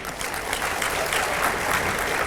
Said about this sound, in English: So big round of applause for our university